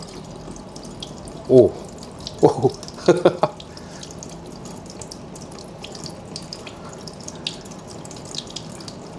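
Water poured or splashed from a tap onto a greased surface during a Malaysian grease water-resistance test, in three short splashy bursts with a brief voice exclaiming at the start.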